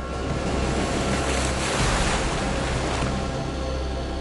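Waves washing onto the Dead Sea shore make a loud, steady surf roar with heavy wind buffeting the microphone throughout.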